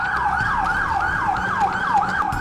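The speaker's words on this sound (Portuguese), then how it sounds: "Sirene a todo som." A fire brigade emergency vehicle wails its siren at full volume, a loud, fast, repeating rise-and-fall yelp heard close with faint road noise beneath.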